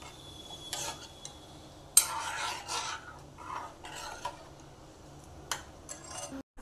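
A spoon stirs vegetable soup seasoned with black pepper in a pot, producing scattered metallic clinks and scrapes against the pot with quiet pauses between them.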